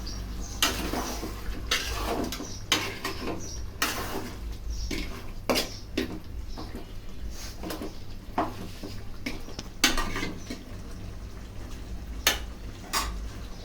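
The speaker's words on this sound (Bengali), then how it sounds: "তো আমাকে একটু পর পর মাংসটা নেড়ে দিতে হবে।" Chicken pieces being stirred in a pot for biryani, with repeated close clanks and scrapes of a spoon against metal over a low background sizzle, irregular strokes every second or so, no talk.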